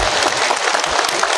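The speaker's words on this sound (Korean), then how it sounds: "크게 박수 한번 쳐 주십시오" A crowd at a Sinan County glass-eel fishing families' unity festival applauds steadily and loudly for the whole short stretch, the clapping dense and continuous with no voices on top.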